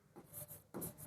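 Pen or pencil writing a math equation by hand on paper, two short scratchy strokes, close and quiet.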